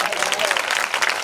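Church congregation clapping together during a Kannada pastor's sermon, a steady dense patter of many hands filling the room, mixed with voices.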